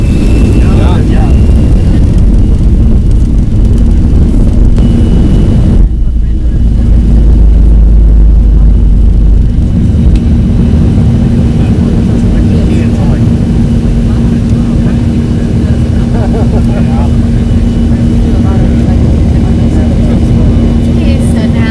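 Passenger airplane taking off and climbing, heard from inside the cabin as a loud, steady engine roar with a deep low rumble that eases partway through and a constant tonal hum, voices murmuring faintly beneath.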